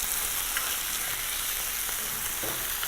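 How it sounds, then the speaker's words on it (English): Chicken thighs sizzle and fry steadily in a pan as they are tossed in a honey garlic butter sauce, a continuous close crackle with soft spoon stirring scrapes and no voices. "all we're going to do is we're going to use a spoon to just toss our meat in the sauce"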